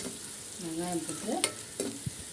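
Onions tipped into hot oil in a heated pan, giving a steady sizzle with stirring and a few sharp clinks of a utensil against the pan, close and moderately loud with no talk.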